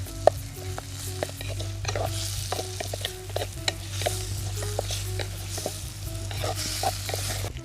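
Vegetables sauté in a pan for a village-style quail gravy with mango: a steady sizzle of frying with repeated scraping stirs of the spatula, close and continuous, with no talking.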